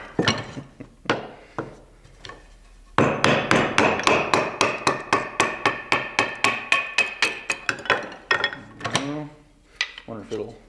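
A D2 steel survival knife carving feather sticks from hardwood, heard as a fast series of sharp, close scraping strokes in a steady rhythm, slower and more scattered at first, with no talking.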